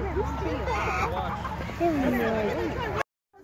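Chickens cluck and call near a family outing on a farm, several overlapping bird calls rising and falling over a low rumble of wind or handling noise. The sound cuts off abruptly at the end.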